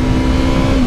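A 2015 Yamaha R3 300 motorcycle engine pulls under acceleration in one brief, close, continuous drone.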